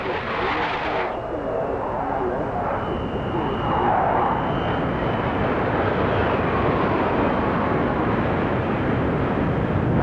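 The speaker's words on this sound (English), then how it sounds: "Now here come the Buccaneers, the Phoenix 5 for their twinkle roll." A Blackburn Buccaneer jet roars past at the 1968 Farnborough air show with a broad, steady rumble that swells and holds loud, continuous engine noise throughout.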